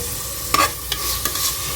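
Mint and coriander fry with ginger and garlic in a pan while being stirred, giving a soft continuous sizzle broken by a few scraping spoon strokes.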